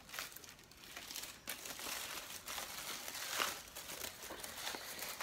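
A beauty products parcel being unpacked, with close, quiet crinkling and rustling of plastic wrapping in irregular bursts and no talking.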